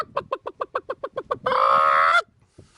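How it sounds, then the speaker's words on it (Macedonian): Hens and a rooster at a mountain camp in Montenegro, nearby, giving a quick series of rhythmic clucks, then a drawn-out loud squawk lasting under a second, followed by a faint cluck. "Петело со кокошките со харем."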